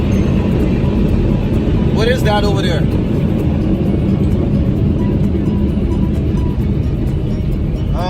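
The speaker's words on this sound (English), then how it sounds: "Now we go through the the dryers. The big, heavy dryer." Big, heavy car wash dryers blow hard on a car in a steady, loud roar, while a voice speaks briefly partway through.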